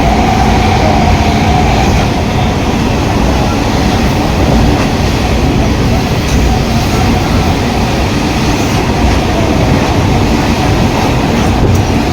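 A local train running from Sealdah to Ranaghat gives a loud, continuous rumble with rattling carriages and a faint rhythmic clatter of wheels, heard close up from on board without letup.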